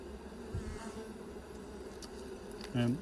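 Honeybees hum in a hive, a faint steady drone with a couple of closer buzzing passes, under quiet background noise.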